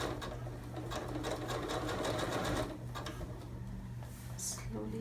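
Sewing machine running steadily while stitching a fabric cushion cover, a continuous mechanical whir with a constant low hum and rapid needle clatter, briefly easing near the end.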